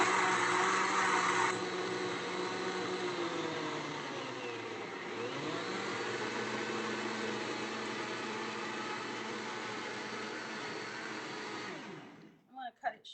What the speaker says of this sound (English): so I'm going to blend this one more time.